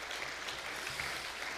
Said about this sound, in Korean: 우리 두 분께 한 박수 한번 할까요?